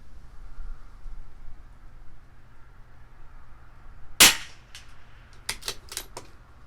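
A CZ 457 LRP rimfire rifle with an IBI barrel fires a single sharp shot downrange at a 100-yard target, followed by a few fainter clicks and metallic handling sounds in a quiet setting.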